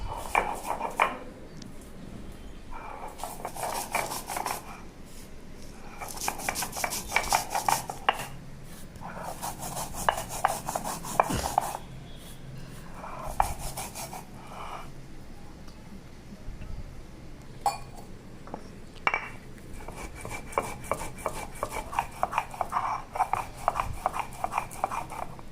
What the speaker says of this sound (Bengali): তো মশলাটাকে আমি ভালো করে বেটে নিচ্ছি।